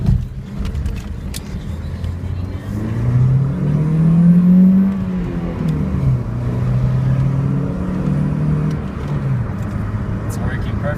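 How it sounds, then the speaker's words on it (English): A 2001–2003 Honda Civic engine accelerating on a short test pull, its tone rising steadily to a loud peak, then easing and holding a steady drone close by. "I'm gonna just do a little test pull right here."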